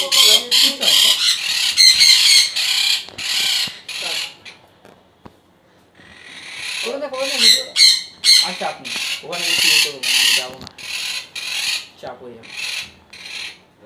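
A pair of sun cheek parrots squawk in harsh, raspy bursts at close range, in two busy runs separated by a quiet gap, with some faint talk mixed in.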